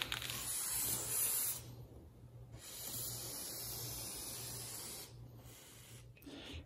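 Lube is sprayed onto a kart's blue O-ring chain in long, steady hissing bursts broken by short pauses, close and continuous, with faint mechanical ticks in the background.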